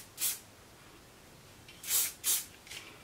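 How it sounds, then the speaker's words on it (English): Sebastian Shaper hairspray is sprayed onto a curl in four short pressurized hissing bursts, one alone and then three close together, near and moderately soft. "I like to spray the curl with the Sebastian Shaper spray"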